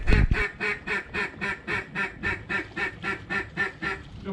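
A duck quacks in a steady, evenly spaced series of about a dozen loud, clear calls that repeat rhythmically without any talking.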